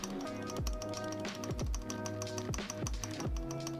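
Iron165 mechanical keyboard with tactile switches being typed on: quick bursts of sharp, close key clacks in uneven rhythm, each press with a slightly scratchy, hollow thock, several keystrokes per second, no speech.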